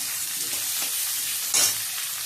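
Potatoes frying in a pan make an even, near sizzle, with a couple of soft stirring scrapes and one brief sharp hiss burst near the end; no voices.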